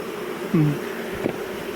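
A short, close honey bee buzz rises briefly over a low background hum during autumn honey extraction, followed by a faint rustle.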